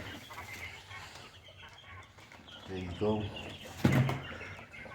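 Chickens and quail cluck softly in a brooder, with a short burst of louder clucking near the end while a person speaks briefly over the birds.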